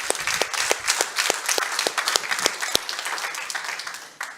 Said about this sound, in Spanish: Yo quiero que te des un fuerte aplauso de nuevo